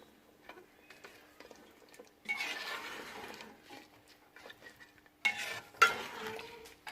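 White sesame seeds stirred through a frying pan of chicken korma, with soft scraping strokes and a light sizzle coming in bursts, close and fairly quiet, no voices.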